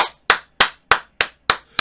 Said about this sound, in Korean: 여러분들 박수!